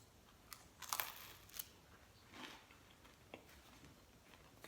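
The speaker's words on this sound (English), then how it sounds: "Can you hear the crunch?" Homemade pizza crust being chewed up close, with a few sharp crunches and softer crackling bites scattered over several seconds in a quiet setting.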